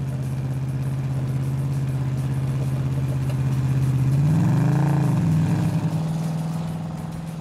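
A 1972 AMC Javelin SST runs with a steady, loud mid-pitched engine drone. Near the middle the pitch swells and dips through a brief rev before settling back to an even idle.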